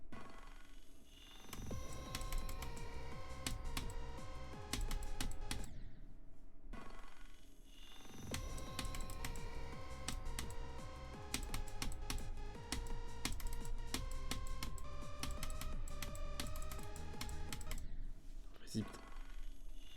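Computer keyboard keys struck in fast, dense rhythmic bursts during a rhythm game, loud clicking under game music with a speaking voice over it.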